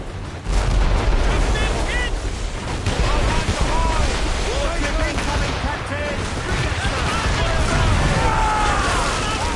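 Cannon fire from ships at sea in Assassin's Creed Rogue thuds under loud wind, crashing waves and shouted crew voices, with several booms spread across a busy, noisy naval battle.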